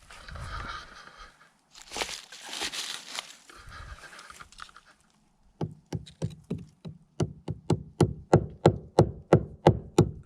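Hammer blows knocking on a wooden kitchen beam in a bungalow, a steady run of sharp, evenly spaced raps that grows louder, after a stretch of rustling handling noise.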